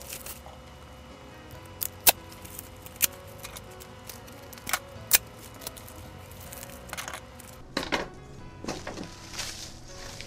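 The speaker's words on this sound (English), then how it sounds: "I'm just going to tape those together really fast." Pattern pieces of plastic being taped together, with irregular sharp clicks and crinkly tearing and rustling of tape and plastic sheeting, close and fairly quiet over a steady background hum.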